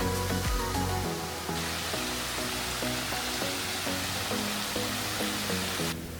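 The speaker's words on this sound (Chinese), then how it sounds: "到處都是瀑布。" Waterfalls pouring in a Croatian national park: a steady, broadband rushing roar of falling water, continuous and fairly loud throughout, with low tonal music-like bands underneath and no talking.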